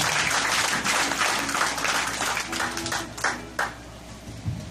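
Church congregation applauding, a broad wash of clapping that thins into scattered claps toward the end, with faint voices mixed in.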